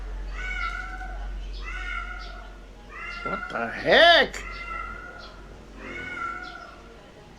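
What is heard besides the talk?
cat meowing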